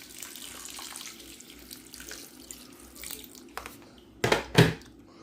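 Water from a tap poured into a pot over rice for coconut rice, with a soft running stream followed by two louder splashing bursts near the end, no talking.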